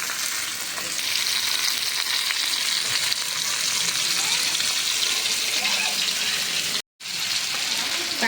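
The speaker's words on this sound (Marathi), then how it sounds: "तसंच सेम ह्या दुसऱ्या साईडने पण भाजून घेऊया." Bangda mackerel fish pan-frying, a steady close sizzle and crackle of oil that runs continuously, broken by one brief moment of silence.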